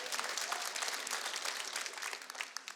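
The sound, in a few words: studio audience clapping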